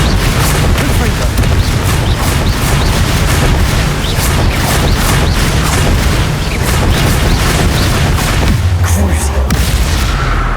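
Confringo fire spell blasts in the Hogwarts Legacy video game, a dense, continuous barrage of loud booming explosions and crackling bursts throughout.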